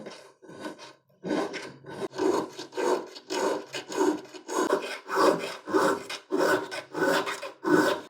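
A Barrette needle file rasping across a workpiece in steady back-and-forth strokes, about a dozen rhythmic scraping passes, close and clear with no talk.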